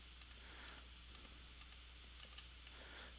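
Light keystrokes on a computer keyboard entering a command in CAD software, a dozen or so crisp clicks in short uneven pairs, faint and close over a quiet room hum.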